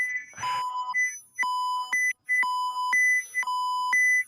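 Built-in alarms in a software control system beep in repeated tonal pulses, about one per second, loud and close, with a brief rustle at the start.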